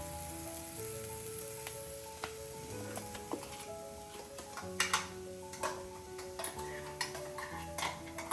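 Spice paste sizzles with ivy gourd in a pan for an onion-masala dish: a quiet, steady frying hiss with scattered small ticks and pops, over a faint sustained tonal background.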